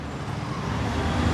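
A Toyota Glory with a 1500 turbo engine idling, a steady low engine rumble heard close up and without anyone talking.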